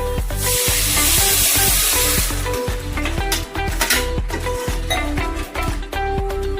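Water poured into a hot pan of noodle masala, with a loud hiss and sizzle that surges at the start, then settles into steady bubbling with clinks of a utensil against the pan.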